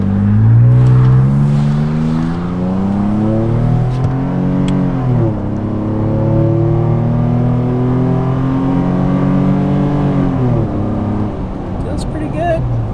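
Nissan Frontier pickup truck fitted with an MBRP exhaust, engine droning and revving up and down through several loud rises and falls, heard close from inside during a drive.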